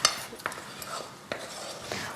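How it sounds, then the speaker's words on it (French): A spoon stirring an acacia honey and lemon mixture in a pan over low heat: a few light clinks and scrapes at intervals, soft and close, with faint murmuring. "Et je remue toujours, n'est-ce pas?"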